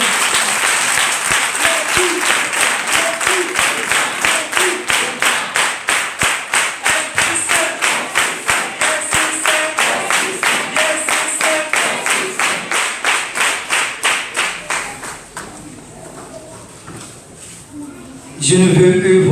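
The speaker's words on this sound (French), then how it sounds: "Vous voulez vous les applaudir pour qu'ils applaudissent avec nous?" A church audience applauds, first a dense clapping burst, then rhythmic unison claps in a steady beat that slowly fades out before a louder noise at the very end.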